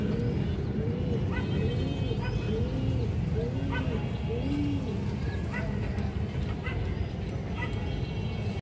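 Old-breed khaki breeder hen pigeons coo in soft, repeated rolling calls. The calls sit over a steady, dense background hum.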